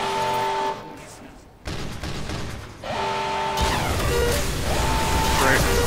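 Gunfire and booms in Team Fortress 2 Mann vs. Machine, a dense, continuous barrage of game weapon fire and impacts over a busy soundscape, with game voices and player talk mixed in.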